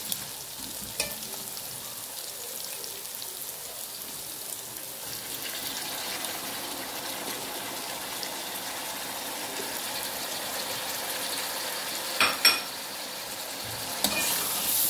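Tomatoes and green chillies fry in a pan with a steady, even sizzle and occasional stirring scrapes, fairly close, with a couple of brief clinks near the end and no talking.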